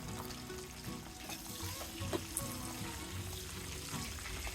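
Chopped ginger and garlic fry in oil for a sweet green mango pickle, a soft, continuous sizzle with faint stirring, quiet and close.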